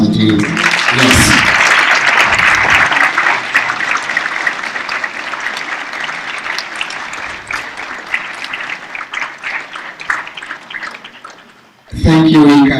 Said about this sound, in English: Please, another round of applause to you